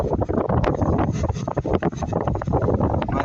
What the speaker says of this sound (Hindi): ब्लोअर भी बढ़िया चल रहा है